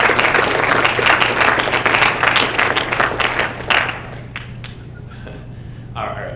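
A roomful of people at a student government association meeting applauds class and academic senators, the dense clapping steady for about four seconds before thinning out and fading to near quiet.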